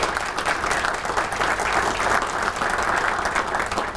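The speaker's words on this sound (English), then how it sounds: "Could you please give the sponsors a round of applause for their support?" Steady audience applause at a diversity and inclusion business session, a dense, even wash of many hands clapping at fairly close range for the full stretch, with no voices standing out.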